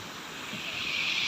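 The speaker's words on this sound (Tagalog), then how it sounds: "napakalakas ng ang lalaki ng alon dito sa may sa may daungan, ayan oh" Big waves breaking at a harbor on a windy day, a steady rushing wash of surf and wind noise that swells slightly louder toward the end, with no voices.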